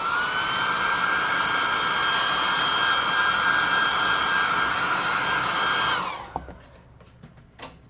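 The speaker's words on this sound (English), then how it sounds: "let's hit him with the +2 hot air gun of burning" A hot air gun blasts steadily at a cheap plastic tabletop miniature, a loud, constant whooshing roar with a high whine that holds for about six seconds, then cuts off and winds down, leaving a few faint clicks.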